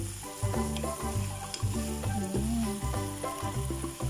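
Vegetables for a chicken sandwich sizzling in a pan while being stirred, steady frying hiss with repeated scraping stir strokes, close and fairly loud, with light background music and no talk.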